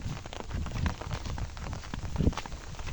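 Morning rain falls near a temple in a soft, continuous patter of drops, fairly quiet and close, with no one talking.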